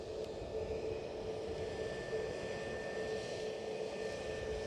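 A WestJet airliner bound for Toronto at Edinburgh Airport gives off a steady, broad jet engine roar with a faint high whine, continuous and moderately loud with no voices.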